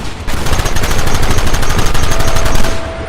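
Rapid gunfire in the Red Dead Redemption video game, a dense continuous volley of loud, evenly spaced shots that fill the whole stretch before cutting off at the end.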